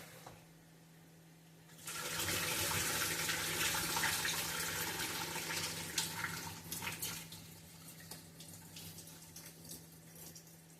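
Water pours steadily from a kitchen tap as rice is rinsed and drained in a pot, a sudden loud gush starting after a quiet moment and splashing continuously, close up, no talking.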